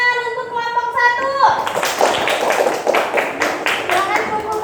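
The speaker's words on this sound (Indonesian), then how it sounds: "Yuk, tepuk tangan untuk kelompok 1." In a third-grade Islamic studies classroom, children break into brisk, close clapping for a classmates' group after a brief spoken prompt, the applause continuing steadily to the end.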